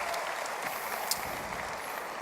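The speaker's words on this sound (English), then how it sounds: "So give yourself a round of applause for being here." Audience applauding at the OnePlus 6 launch event in India, a continuous, fairly faint wash of crowd clapping heard from a distance in a large hall.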